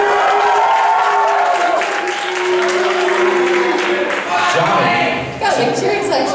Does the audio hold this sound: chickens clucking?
no